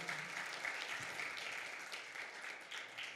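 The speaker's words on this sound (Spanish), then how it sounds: "¿Podrá dar un fuerte aplauso a ese Jesús" A church congregation applauds during a Spanish-language sermon, giving steady, dense clapping at moderate distance that fills the whole short stretch without breaks.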